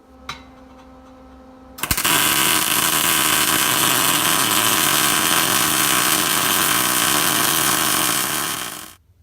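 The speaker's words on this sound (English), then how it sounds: "I'm just gonna go ahead and fucking weld this thing on here" Welding a custom Y pipe with long tube headers onto an 82-92 Camaro, a loud, steady buzzing crackle that starts abruptly after a couple of quiet seconds and runs unbroken for about seven seconds before cutting off.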